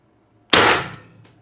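A Mercury Rise TR50 Torpedo air gun, tested after reinstalling its factory bolt spring, fires a single sharp, loud shot close by, with a short decaying ring afterward and no talking.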